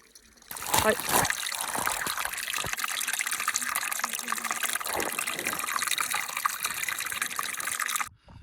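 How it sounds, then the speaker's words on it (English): A small mountain stream on the Waipakahihi Range trickles and gushes steadily at close range, a continuous watery wash that runs for about eight seconds. "little stream here. So just it's trickling, it's water."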